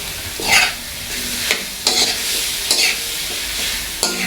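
Chicken fries in a pan with lots of black pepper, oyster sauce and Sprite while a utensil stirs it. Sizzling runs throughout, broken by rhythmic scraping strokes about every half second to second.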